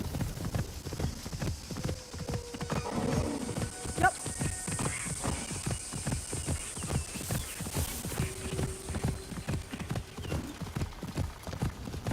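Horse hooves clip-clop in a steady walking rhythm in the video game Assassin's Creed Shadows, close and continuous, with a brief whinny and a voice speaking briefly.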